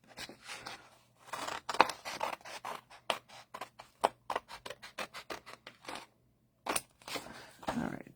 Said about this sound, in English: I'm going to go ahead and trim this down a little bit here.